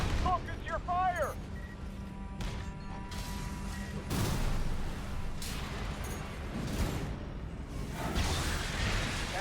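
Gunfire and mechanical whooshes from the Armored Core 6 video game, with repeated bursts, booms and swishes of combat under a voice talking.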